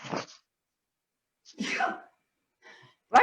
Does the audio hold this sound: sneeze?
yes